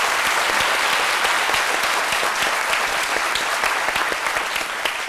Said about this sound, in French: Moi, je vais demander à tout le monde d'applaudir notre invité.